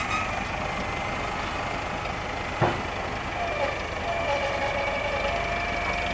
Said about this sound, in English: My dad's on the tractor loading, as you can see.